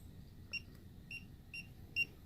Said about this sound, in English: You'll know because you'll hear the beep.